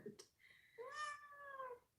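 Kitten meowing close by in a couple of rising, drawn-out cries, with light handling noise in the background.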